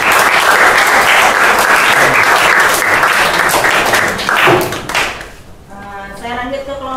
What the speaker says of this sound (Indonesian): beri tepuk tangan bagi kelompok 3